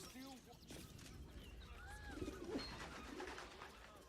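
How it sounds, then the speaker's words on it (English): Pigeons coo softly in a Baldur's Gate 3 game scene, their low, rounded calls repeating faintly beneath a character's voice and a quiet ambient background. "Pigeons are very sensitive."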